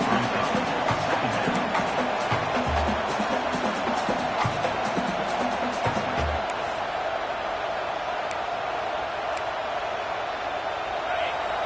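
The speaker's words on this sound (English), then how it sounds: "Listen to the crowd energy here in the early going." A large stadium crowd at a video game college football playoff game, Oklahoma vs North Carolina, roars in a constant, dense wash of noise, loud and unbroken throughout.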